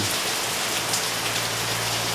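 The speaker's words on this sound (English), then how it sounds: "As you can see, it's raining pretty rough today." Heavy morning rain pours down steadily on a job site, a dense continuous hiss of drops striking surfaces close by, with a low steady hum underneath and no voices.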